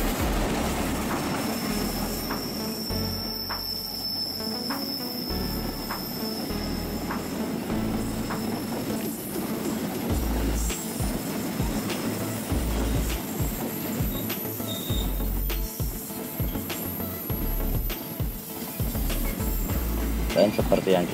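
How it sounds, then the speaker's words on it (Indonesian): A KRD diesel passenger train rolls past on the Rancaekek line beside double-track construction, giving a steady, loud rumble with wheel clatter, rail noise and a faint squeal that carry on for the whole stretch. "Ini KRD lewat jelas nih."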